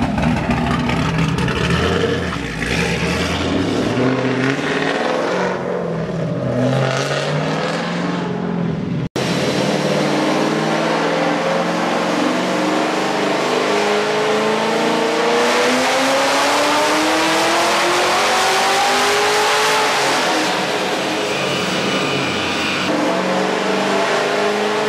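A loud, roaring supercharged V8 engine in a 2015 Chevy Camaro on a dyno holds high revs, then climbs steadily in pitch through a long sustained pull, close and continuous with no voices.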